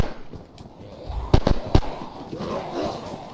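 Repeater rifle fire in the DayZ game, three sharp close shots in quick succession over a busy background, with players talking around them.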